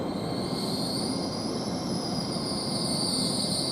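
A train pulls into Watford Junction station on the West Coast Main Line, its wheels squealing in a high sustained screech over a rolling rumble. The sound holds steady and close throughout.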